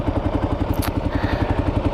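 A 2008 Kawasaki KLR 650 single-cylinder motorcycle engine running steadily nearby, with an even, rapid thumping pulse and no one talking.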